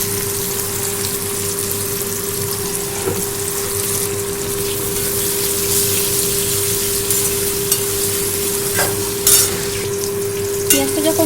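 Chopped onions frying in tempered oil, a steady loud sizzle and crackle with occasional sharper spatters and stirring scrapes, over a constant low hum.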